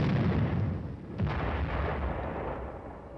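An M48 Patton tank fires its 90mm gun, a single heavy booming blast followed by a long rolling rumble that fades slowly, loud and outdoors.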